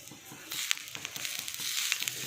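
Coriander stems roasting in a pan give a short, soft sizzle with faint crackles and light stirring scrapes, close by.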